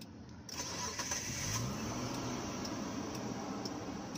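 A 2005 Mitsubishi Galant engine cranking and catching after a brief silence, then settling into a steady, smooth idle heard up close with faint ticking.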